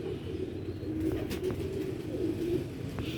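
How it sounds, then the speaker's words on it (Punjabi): Sialkoti pigeons coo steadily in low, throaty rolling calls, close by, over a constant background hum. "ਸਿਆਲਕੋਟੀ ਪੁਰਾਣੇ ਲਾਲ ਮੋਤੀਆਂ ਵਾਲੇ ਕਬੂਤਰ"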